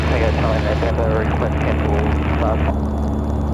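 Steady engine and propeller drone fills the cabin of a light airplane flying low under clouds, loud and constant, with people talking over the noise.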